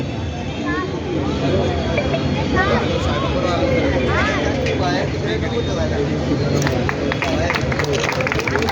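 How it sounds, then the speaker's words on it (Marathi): A crowd claps steadily through the opening ceremony of the Malvani festival 2024 at Shivainagar in Thane, with sustained dense applause while a voice calls out over it and festive music plays in the background. "जोरदार टाळ्या आपल्या सर्वांच्या टाळ्यांच्या गजरामध्ये"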